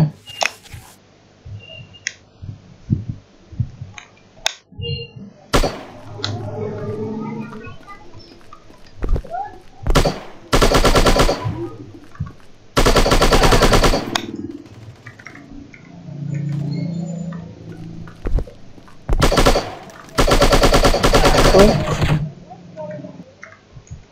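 Gunfire rips through walls in the mobile shooter Striker, coming in several loud, sustained bursts separated by quieter stretches with small clicks and scattered game noises.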